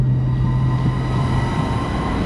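A train departing Ashford station bound for Margate rumbles steadily and close by, with a low sustained engine hum and a constant mechanical drone and no voices.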